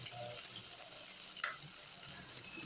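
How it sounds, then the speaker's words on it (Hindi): Dried red chillies and chopped garlic frying in oil in a pan while making a desi chicken stew, giving a steady close sizzle with a faint crackle and a brief stir partway through. "जैसे ही सूखी लाल मिर्च थोड़ा सा क्रैकल होती है"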